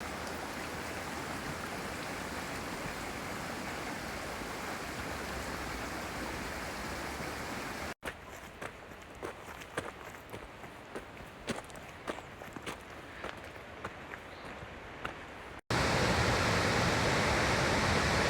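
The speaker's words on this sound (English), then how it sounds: "Can you hear that? That water is flowing." Water from a stream near a waterfall on a forest trail, a steady broadband rush heard alone, broken in the middle by a quieter stretch with scattered crunching steps before the roar returns.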